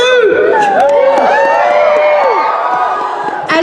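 A large crowd of Doctor Who fans cheers and whoops loudly and continuously, with shrill overlapping shouts and screams filling the whole stretch before the noise starts to fade near the end.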